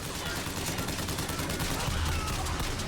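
Rapid gunshots in the shooter BioShock Infinite form a steady, noisy barrage of overlapping bursts throughout, fairly quiet overall, with a voice faintly underneath.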